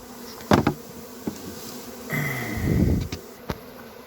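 A swarm of honey bees buzzes near a plastic hive body with a close, steady drone. A few sharp knocks and thumps cut through the hum.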